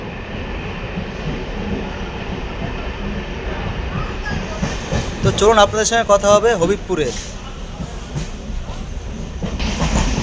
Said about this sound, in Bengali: আমাদের ট্রেন এখন ফুলিয়া ছেড়ে যাচ্ছে